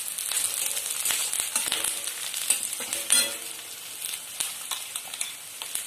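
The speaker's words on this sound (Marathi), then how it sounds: "कांदा गुलाबी होईपर्यंत आपल्याला परतून घ्यायचं। थोडासा कढीपत्ता घातला आहे त्यामध्ये" Onion and curry leaves sautéing in hot oil for Mumbai-style vada pav, a steady close sizzle with crackles and a spatula stirring now and then, no voices.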